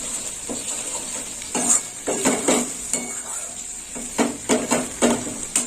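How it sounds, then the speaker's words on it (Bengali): Spice paste with turmeric sautés in a pan for prawns and pointed gourd, a low sizzle under repeated scraping and clinking stirs of a spoon against the metal pan. "আর একটু মশলাটা কষা হবে।"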